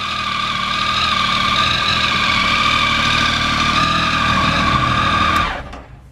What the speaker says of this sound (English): that's what a Triumph Speed Triple 1050R sounds like with Arrow exhaust